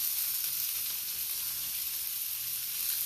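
Patties sizzle in a frying pan as part of an English breakfast, a steady, soft hiss of frying fat throughout with no talk.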